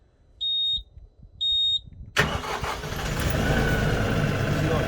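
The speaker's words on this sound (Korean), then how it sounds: "트랙터 탔으면 뭐한다 시동 걸어요" A tractor engine starts in a field. Two short, high electronic warning beeps come first, then the engine cranks and catches with a loud burst and settles into a steady, rumbling idle.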